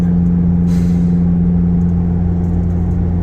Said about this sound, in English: Oh, got a big old truck. Going up the road.